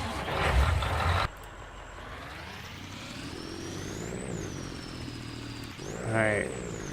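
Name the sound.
truck in Auctions And Trailers video game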